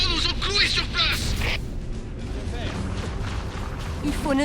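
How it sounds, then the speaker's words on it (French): Fixed cannons fire in the Halo video game, with dull booms and battle noise under game dialogue, and voices speaking throughout. "Chef, ces foutus canons nous ont cloués sur place."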